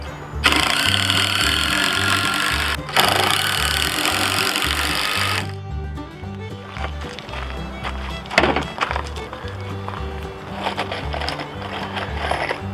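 A power drill drives screws into a 2x4 sawhorse, its motor whirring in loud sustained bursts with a brief pause, then quieter intermittent driving and thumps under a steady background hum.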